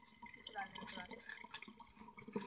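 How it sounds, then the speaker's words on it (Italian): Water runs steadily from a public fountain in Antignano into bottles, a continuous close splash and trickle with voices talking over it. "Mettiamo ancora acqua."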